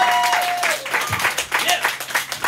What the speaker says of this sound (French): Vous pouvez applaudir bien fort.